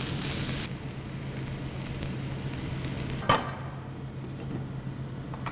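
Fish fries in a pan with tomatoes and chopped rosemary, a steady close sizzle with light stirring and one sharp clatter near the end, no talking.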